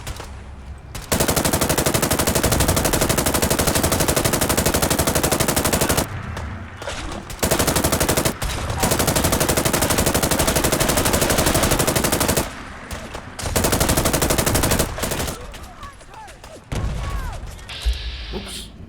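Sustained automatic gunfire in Fallout 4 aimed at gulpers, long loud continuous bursts broken by a few short pauses, with a voice talking briefly near the end.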